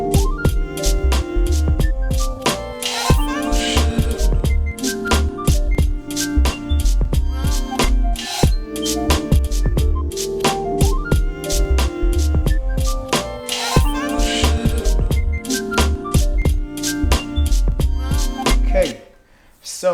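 Eight-bar beat loop from a hip-hop production, with punchy drums, layered melodic parts and samples playing dense and steady throughout, then cutting off abruptly near the end.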